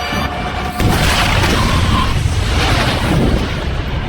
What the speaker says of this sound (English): An explosion rocks the hall